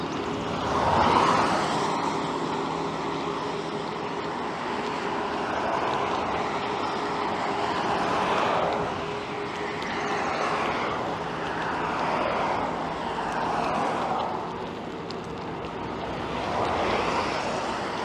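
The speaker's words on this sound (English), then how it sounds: "this part of the trail is kind of noisy with traffic, obviously." Road traffic roars past beside the Erie Canalway bike trail, with vehicles swelling and fading in repeated waves of broad rushing noise, loud and near, heard without talk.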